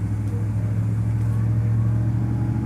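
A car on the road gives off a steady, close engine drone and low rumble from inside the cabin, holding an even level throughout with no speech.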